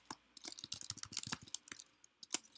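Fingers tap rapidly and unevenly on a computer keyboard in a quiet room, producing a faint, close flurry of light keystroke clicks with brief pauses.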